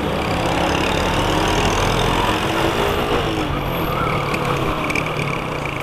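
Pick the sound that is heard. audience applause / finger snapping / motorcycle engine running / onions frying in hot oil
motorcycle engine running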